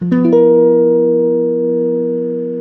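A single sustained chord built from two tritones a major seventh apart, with a sharp, clean attack, rings out and slowly fades, bright and slightly dissonant, with nothing else heard.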